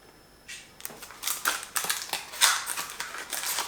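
Cheap AliExpress items are cut with pliers in a series of sharp snapping and clicking bursts, irregular and close, with no talking.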